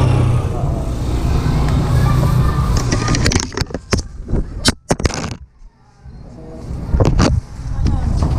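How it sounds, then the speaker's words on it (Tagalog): Strong wind buffets the microphone in heavy low rumbling gusts, dropping briefly before roaring back, with faint voices underneath. "Lakas ng hangin."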